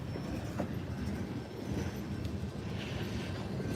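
A train passes a crossing on a summer dog walk, a close, loud rumble of wheels and wagons with clattering rail noise and faint squeals, continuous throughout with no speech.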